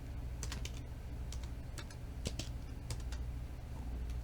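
Fingers type on a computer keyboard in quick, uneven bursts of clicking keystrokes, close and fairly quiet over a low background hum.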